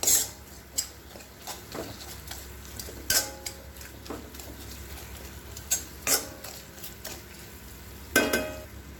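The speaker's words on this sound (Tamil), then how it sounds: "நல்லா இந்த மாதிரி மேஷ் பண்ணிடுங்க." A spoon scrapes and taps against a kadai while mashing egg curry masala with cumin, pepper and salt, a string of irregular metallic clinks and knocks over a soft sizzle of frying.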